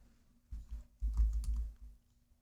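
Keys tapped on a computer keyboard while entering a month name into a spreadsheet cell, a quiet burst of soft clicks in two short clusters, close and alone.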